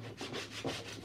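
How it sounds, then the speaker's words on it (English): Sandpaper rubbing across a decoupaged wooden craft box, making quick rhythmic scratchy strokes, close and fairly quiet with no voices. "I'm just sanding the whole thing."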